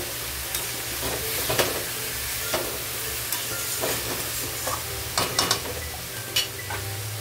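Ash gourd cooks with a hilsa fish head in a pan over a low flame, a continuous sizzle broken by repeated scraping and tapping of a spatula as the pieces are stirred, no speech.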